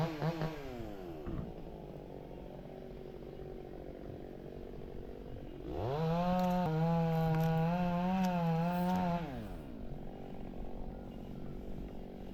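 A chainsaw engine idles, then revs up loudly for a few seconds with a high buzzing whine before dropping back to idle.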